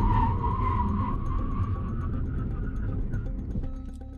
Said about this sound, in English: the track-ready brakes bring the Civic to a stop in 674 feet